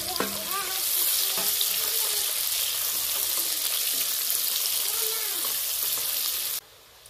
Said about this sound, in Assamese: অলপ টাইম মই পিঁয়াজখিনি ভাজি ল'ম